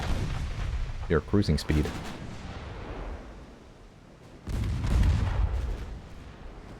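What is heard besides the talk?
naval cruisers firing guns in a video game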